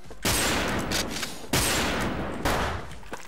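Gunshots in a first-person shooter video game, three loud, heavy reports spaced about a second apart, each with a long decaying echo.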